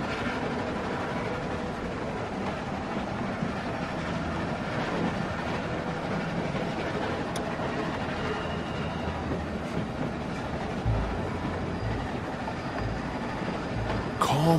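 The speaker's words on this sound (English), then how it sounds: "Stop the train." A train runs along the rails in The Walking Dead video game, a steady, loud rumble with rhythmic clacking that continues throughout, joined by a few sharper knocks toward the end.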